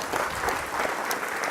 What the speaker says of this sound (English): give the candidates a round of applause